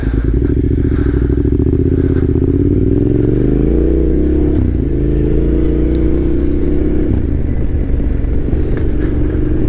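A 2021 Yamaha Tenere 700 rides off-road with its exhaust loud and close: a steady throbbing engine note rises and falls as the throttle changes, with gravelly crunches and rattles from the rough ground.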